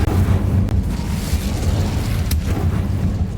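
An Incendio fire spell from Hogwarts Legacy erupts as a loud, roaring burst of flame that holds steady for a few seconds, with a brief crackling flare near the end and no voices.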